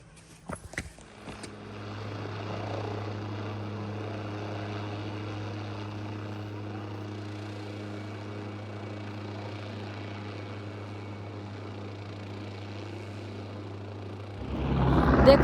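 A helicopter flies near the Vaishno Devi shrine, giving a steady low droning hum that holds for about thirteen seconds at moderate distance, beginning after a brief knock and ending in a louder rush of noise.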